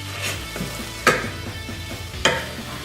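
A mixture sizzles steadily in a pan on the stove while a utensil stirs it, with two sharp scraping knocks against the pan standing out close up.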